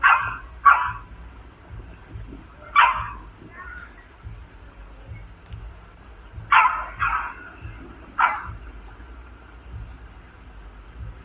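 A dog barks in short bursts, a few quick yips followed by single spaced barks, fairly close and loud over a low background hum.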